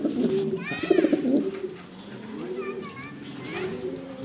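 Black Danish pigeons coo in low, rolling phrases close by, with a brief higher bird call and other faint chirps overhead in a loft setting.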